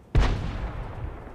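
In World of Tanks, a T-44-100 takes a hit that blows its turret off: a single sharp, loud boom followed by a rumbling decay with no other sounds.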